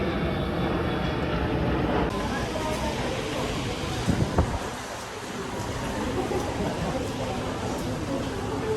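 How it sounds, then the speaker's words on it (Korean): A loud airplane roars overhead, a steady broadband rumble that fills the scene and swells slightly midway before settling. "비행기가 엄청 크게 나네"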